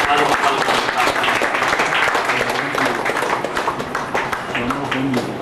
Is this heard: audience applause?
yes